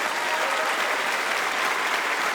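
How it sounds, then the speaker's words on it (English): Dense, steady applause from a debate audience for the speakers fills the clip, loud and continuous without a break. "Can you please give a big round of applause to all your speakers today?"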